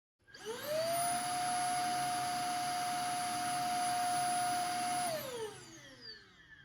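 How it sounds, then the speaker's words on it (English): A Shark vacuum cleaner whirs up to a loud, steady high-pitched whine, holds for several seconds, then powers down and winds off. "turn the vacuum on and make sure everything works properly"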